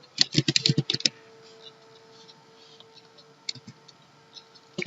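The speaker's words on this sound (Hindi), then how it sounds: "इंस्टीट्यूट टाइप करते हैं" Quick typing on a computer keyboard while entering text in a Microsoft Excel 2019 spreadsheet, a close burst of key clicks followed by a few sparse taps over faint room hum.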